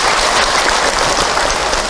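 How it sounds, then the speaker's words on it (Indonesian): An audience at an Indonesian religious talk breaks into brief, dense applause, a loud continuous clatter of many hands lasting about two seconds, with no voices over it. "Tepuk tangan untuk kita semua."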